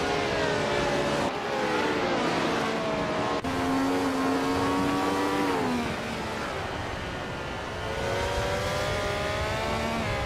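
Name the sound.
1967 Ferrari 312 racing engine in a video game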